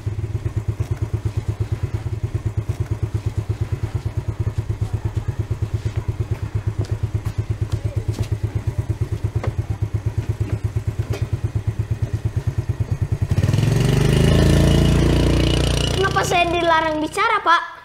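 A motorcycle engine idles with a steady, rapid chugging pulse for most of the stretch, then gives way to louder rumbling, clatter and thumps near the end.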